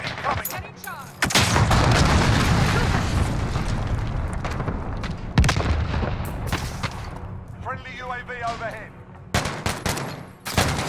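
Heavy explosions and gunfire from a cruise missile strike in the Call of Duty: Modern Warfare video game, loud booming blasts rolling over sustained battle noise with sharp cracks near the end.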